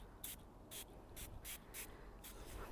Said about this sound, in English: And then we're gonna spray all over this thing, and we're gonna let it soak for like 10 or 15 minutes.